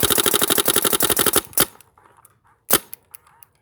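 A GoG Extcy paintball marker fed by a JT Triad loader fires a rapid, evenly spaced string of sharp pops at about 20 balls per second, then stops abruptly, followed by a few scattered clicks and one more louder pop.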